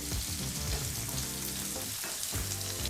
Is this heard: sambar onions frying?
yes